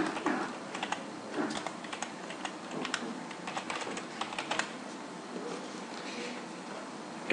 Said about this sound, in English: so we'll just type that in.